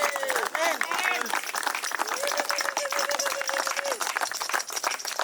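Funeral congregation applauding, steady dense clapping from many hands at close range, with a voice speaking and sung or drawn-out vocal tones over the applause.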